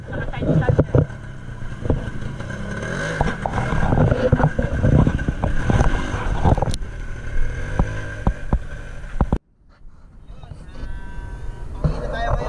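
A SYM Jet 100 scooter engine starts and runs with an uneven, revving idle close by. It cuts out abruptly near the end, leaving quieter background noise, while people talk nearby.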